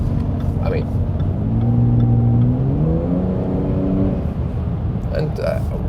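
Jaguar F-PACE S V6 with 380 hp accelerating in race mode, a loud rising engine drone sweeping upward through gears inside the cabin, with someone talking over it.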